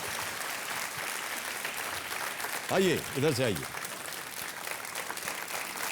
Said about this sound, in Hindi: एक बार फिर तालियों के साथ इनका अभिनंदन